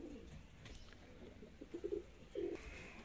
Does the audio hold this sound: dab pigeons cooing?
yes